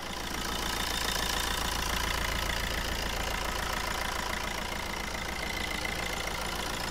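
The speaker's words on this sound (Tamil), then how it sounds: "இப்போ இன்ஜினோட நாய்ஸ் நான் உங்களுக்கு மைக்கு பக்கத்தில் வச்சு எப்படி இருக்குன்றதை" A 2014 Fiat Punto diesel engine idles steadily with the mic held close, a continuous low clattering rumble with a faint hum running through it.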